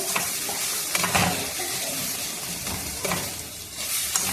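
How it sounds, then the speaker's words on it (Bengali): Spice paste of ground onion and ginger sautéing in a pan for a puthi fish curry, a dense continuous sizzle with intermittent stirring scrapes, close and steady with no voices. "আমাদের মশলাটা কষানো হয়ে আসছে।"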